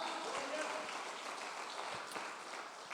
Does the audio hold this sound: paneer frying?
no